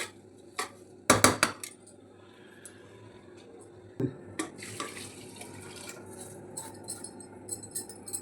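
Water pours steadily into a cooking pot for avarekalu khichdi after a few metallic clanks of pots and utensils, close by and moderately loud.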